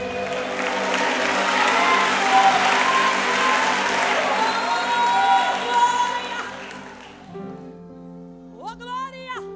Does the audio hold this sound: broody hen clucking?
no